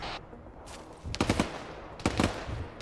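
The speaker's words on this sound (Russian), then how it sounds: "Кто это стреляет?" Gunfire in ArmA 3, a military shooter game: two bursts of rapid shots, one around the middle and another later, rising over a steady background hiss, fairly close and loud, with no talking.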